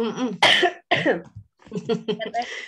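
A few sharp coughs break up a short stretch of speech, close and loud, with a brief pause between them.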